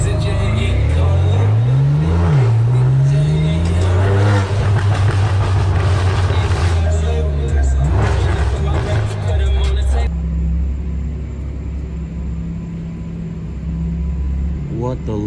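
A Lexus car on a Miami street passes close by with a loud rumbling engine and rising revs, then its sound drops to a steady lower hum.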